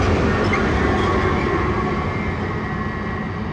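Long freight train rolling past with a pusher locomotive, a steady loud rumble of wagons and wheels with faint rail squeal, close by and continuous.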